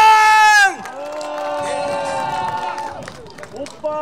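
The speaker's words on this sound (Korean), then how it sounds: "자 달봉이 잘하라고 박수 한번 함성구 함께" An outdoor crowd at a spring flower festival pre-show performance in Okcheon cheers and applauds after a loud shouted call from the emcee. Dense crowd noise and whoops follow, with voices rising above it.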